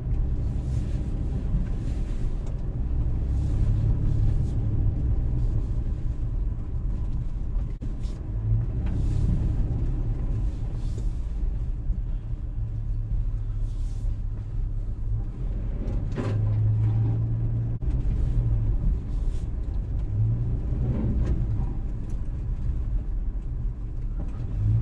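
A Toyota FJ Cruiser drives off-road along a sandy, grassy river trail, its engine a steady low rumble throughout with occasional knocks and creaks from the body over bumps, close and continuous with no talking.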